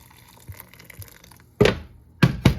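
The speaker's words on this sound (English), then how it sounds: "Cover them with some boiling water." Boiling water is poured over blackberries in a pot, with a soft tap first, then close splashing pours in short bursts near the end.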